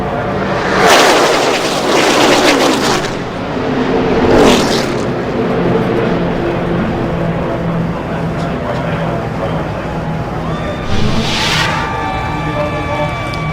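Loud roaring engines and crowd noise from NASCAR race cars at Talladega, with a couple of harsh bursts of a crash impact early on, and a commentator talking over it throughout.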